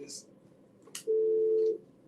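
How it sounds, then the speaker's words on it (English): A mobile phone goes off with a steady electronic tone of about two-thirds of a second, heard indoors during an interview, with brief noises before it and no talk over the tone. "My phone's going off,"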